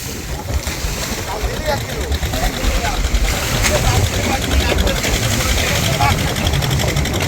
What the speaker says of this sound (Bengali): সেই লঞ্চ নিয়ে আমরা ছুটছি দুবলা চরের উদ্দেশ্যে